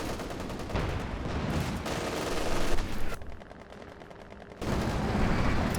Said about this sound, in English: Could have avoided running right into the machine gun like that.